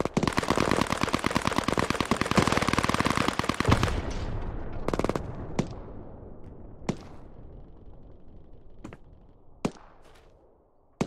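Gunfire in Hell Let Loose, a World War II shooter set in urban combat: a loud sustained machine-gun burst for about four seconds, then scattered single shots, some sharp and close, others more distant, across a fading battlefield.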